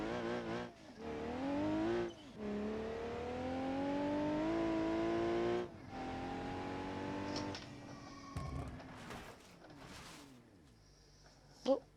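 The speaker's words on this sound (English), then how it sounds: "so now we have our ETK track car" ETK track car in the driving game BeamNG.drive: a close engine note revving up and shifting through gears in rising sweeps, with brief drops between shifts, then a scrape and clatter near the end.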